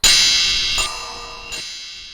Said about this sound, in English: Then we'll add a delay to the chime.